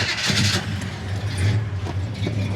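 A 1972 Chevrolet Chevelle small-block V8 catching and settling into a low, steady rumbling idle, heard up close with a rough throaty hum throughout.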